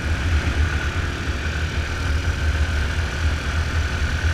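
A steady, loud engine drone with a deep low rumble, continuous and unbroken, a motorcycle running at speed up a mountain road.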